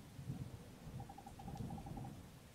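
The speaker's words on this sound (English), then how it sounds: "Did you hear that? Cut it out, it's just thunder." Thunder rolls through a rainy night scene in the video game Wargroove, a low, steady rumble that continues throughout, with a soft repeating hoot-like tone in the middle.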